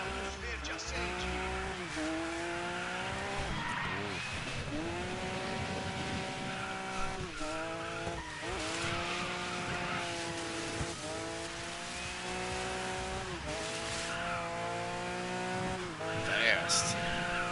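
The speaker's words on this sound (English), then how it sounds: "Squealing tires." Tires squeal repeatedly as race cars skid through corners in the video game Dirt 5, a string of long, bending screeches over a constant engine roar, with a voice talking underneath.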